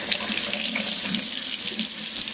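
Water gushing from a tap for a monkey's bath, a loud, close, steady hiss and splash that runs unbroken throughout.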